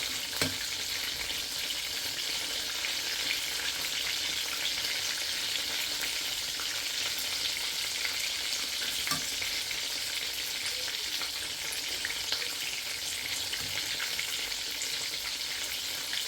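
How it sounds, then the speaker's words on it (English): Pumpkin rice fries in a pan with a steady, close sizzle that runs throughout, and faint scrapes and clicks of stirring come through it. "Give it a proper little stir. Let the pumpkin mix in properly with the rice."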